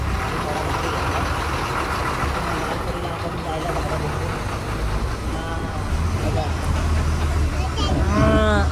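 A cow moos near a stopped bus on a road, its lowing rising over a steady engine rumble and nearby chatter.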